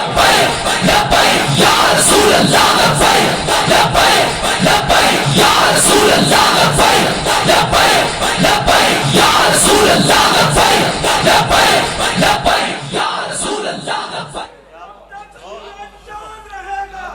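A large crowd chants religious slogans in unison at a religious gathering, loud and dense with rhythmic shouted pulses throughout, then cutting off abruptly near the end into quieter, closer voices.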